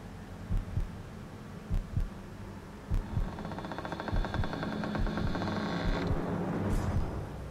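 A heartbeat sound effect from a Thai BL drama trailer thumps in a steady low double-beat rhythm, loud and close, joined midway by a sustained humming musical drone.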